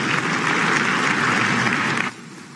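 Children in a crowd clap in a dense, lively burst for about two seconds at a live presidential best teachers award event before the applause suddenly drops away.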